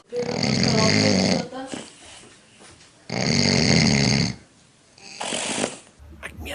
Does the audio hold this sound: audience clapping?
no